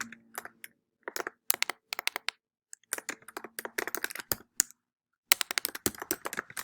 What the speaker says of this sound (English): I'm sorry, guys, I can't type today.